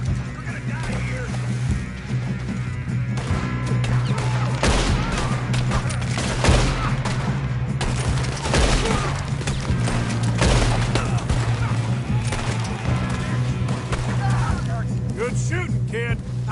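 Sustained gunfire in Red Dead Redemption 2 crackles through a firefight, with repeated shots and booms over a steady low rumble while characters talk over the noise.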